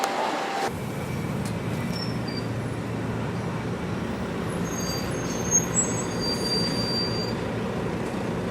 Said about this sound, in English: So here we are at Sunshine train station, and obviously we've got to wait for Charlie